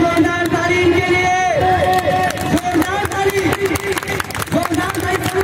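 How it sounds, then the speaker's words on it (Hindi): A crowd claps loudly and steadily at a public warm-clothes distribution event in Mirzapur, the rapid applause mixed with shouting, crowd chatter and a loudspeaker voice. "एक बार जोरदार ताली इनके लिए"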